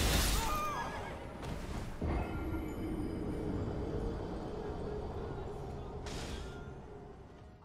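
Horse neighing in the Elden Ring video game after an arrow strikes its head, a loud whinny at the start followed by further game sounds and a brief later cry, with a voice talking over parts of it.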